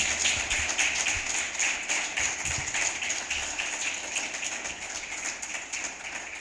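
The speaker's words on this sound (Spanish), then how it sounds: "Dale un aplauso al Señor" A church congregation claps together, a dense steady patter of many hands continuing throughout, fading slightly toward the end.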